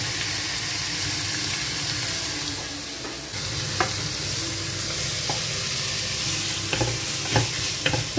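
Pork frying in a pan with potato and tau pan chang paste, a steady close sizzle with scraping stirs and occasional clinks of the utensil against the pan, no talk.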